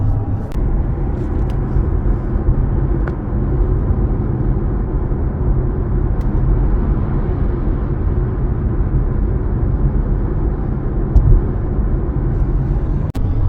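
Steady low road rumble and engine drone from inside a car cruising at 100 km/h in seventh gear on winter tires, with occasional small bumps and no talking.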